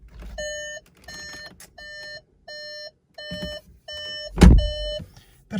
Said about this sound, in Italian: Probabilmente sentirete anche un beep perché ho il quadro acceso.